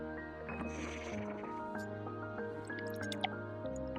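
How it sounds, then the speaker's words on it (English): Water is poured into a jar up to the one-cup line, a close, quiet trickle with a rising gurgle and a few bright drips. "I'm going to pour it up to the 1 cup line."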